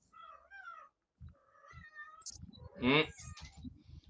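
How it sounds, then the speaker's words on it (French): Several house cats meow in turns, with clear rising and falling cries spread across a few seconds and one louder, longer wail near the end, between short quiet gaps. "On entend vos chats."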